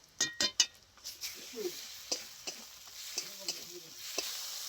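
Turmeric and cumin spice paste frying in oil in a pan for a thin fish curry, with soft steady sizzling broken by a few sharp utensil clinks and scrapes near the start and scattered stirring taps.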